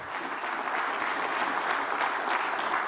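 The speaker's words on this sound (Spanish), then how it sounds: "un aplauso para nuestro presidente obrero Nicolás Maduro Moro" Sustained applause fills the chamber of Venezuela's National Assembly during a parliamentary session, a dense, steady clatter of many hands clapping at close range with no speech over it.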